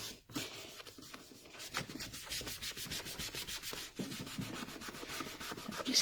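A rubber stamp gets scrubbed clean with stamp cleaner in fast, repeated rubbing strokes, a close and dry scratchy brushing rhythm with no talking.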